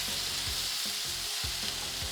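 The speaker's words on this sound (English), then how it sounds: "a hot pan or pot in this case, so that you actually cook the meat until it browns" Meat browns in a hot pot as samosa filling, a dense, continuous loud sizzle with a few quick stirring scrapes rising through it.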